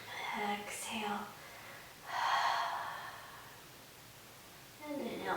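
Soft breaths are pushed out during a beginner core exercise on the floor. A couple of airy, whispery exhales, each lasting around a second, come close to the microphone and are separated by quiet pauses.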